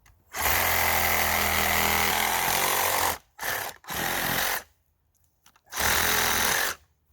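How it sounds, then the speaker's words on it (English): A loud, harsh buzzing reciprocating saw cuts a freshly cut tree stump, running steadily, cutting out briefly, restarting in short bursts, then revving again after a pause. "that's when I use my Sawzall"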